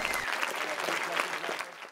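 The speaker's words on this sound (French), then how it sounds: "Et ouais, et encore plus d'applaudissements, voilà." Audience applause at an art master class event in Paris, a steady wash of clapping from a crowd that holds at an even level throughout, with some voices faintly mixed in.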